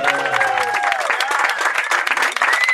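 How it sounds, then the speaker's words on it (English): An audience at a group panel discussion breaks into loud, sustained applause, a dense rapid patter of many hands filling the room, with a voice briefly audible at the start. "let's just give a big round of applause to Alli for"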